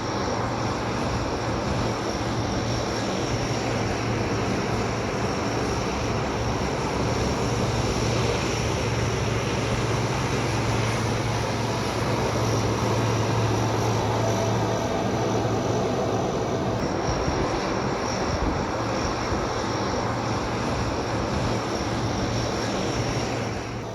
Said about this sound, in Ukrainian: Нам пощастило побачити посадку, а через 20 хвилин і зліт польського військового літака.